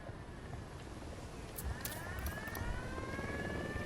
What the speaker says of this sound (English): we gotta deal with the chopper now